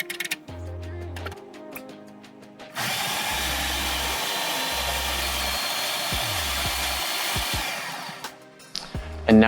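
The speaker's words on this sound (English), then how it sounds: "add the rest of the crust ingredients to the food processor and then blend until you get like a sticky dough" A food processor blends vegan cheesecake crust ingredients into a sticky dough, a loud continuous motor whir running for several seconds after some clattering and low tones, then winding down.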